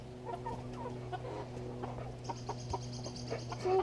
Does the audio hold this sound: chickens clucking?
yes